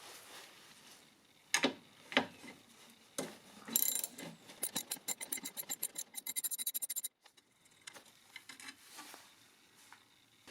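A ratchet clicks rapidly as it undoes a 10 mm bolt on the power steering reservoir of a 1.6 HDi Peugeot Partner, with scattered scrapes and knocks before a fast, steady run of ratchet clicks that stops abruptly.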